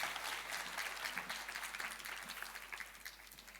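Audience applause at an innovation labs demo day, a steady, moderately distant round of clapping from a crowd lasting a few seconds and gradually thinning toward the end.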